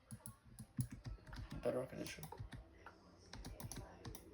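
Rapid clicking of keys on a computer keyboard, close and uneven, while someone talks over the typing.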